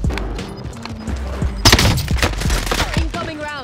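Sniper rifle fire in a shooter video game: booming gunshots burst out close and loud, with rapid reports and ringing echoes, while a voice talks over the action.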